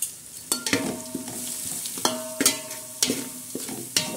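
Masala with bay leaf and curry leaves frying for a biryani, a soft background sizzle broken by repeated sharp spoon scrapes and metallic clinks against the pan at a slow, uneven rhythm.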